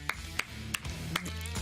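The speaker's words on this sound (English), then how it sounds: "Brady, I think you're the only one clapping for that" One person claps alone in a studio setting, with four spaced, crisp claps in an uneven rhythm over a low background hum.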